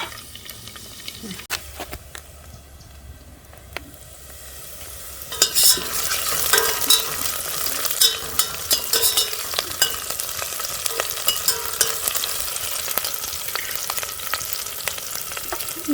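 Peppers sizzle steadily in a hot pan, the frying growing louder partway through, with repeated scraping and stirring clatter.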